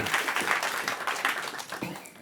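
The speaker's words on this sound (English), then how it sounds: "So give Andre a round of applause." An evening audience at the Cheltenham Science Festival applauds a speaker coming on stage, a steady wash of many hands clapping at moderate volume, fairly close and continuous, with faint voices mixed in.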